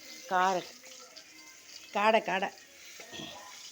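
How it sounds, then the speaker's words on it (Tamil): Steady hiss of oil sizzling as quail fries, with a voice talking over it in short phrases. "காடை பொரிச்சிட்ருக்குறேன்"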